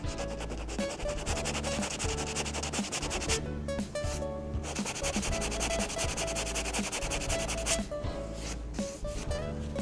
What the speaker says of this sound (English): Now here I may elect to use some 220 sandpaper.